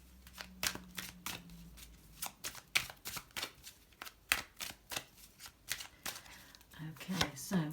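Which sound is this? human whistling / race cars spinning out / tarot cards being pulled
tarot cards being pulled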